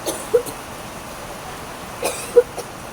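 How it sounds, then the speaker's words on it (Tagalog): Two short, faint coughs about two seconds apart against a quiet hiss, with no talking. "Wala na siya, inubo-ubo na siya."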